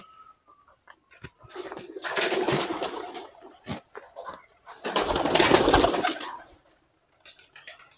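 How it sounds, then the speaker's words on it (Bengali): Pigeons at a village house in Paturia coo nearby and burst into two loud rounds of wing flapping, with quieter calls between the flurries and no talking. "কবুতর।"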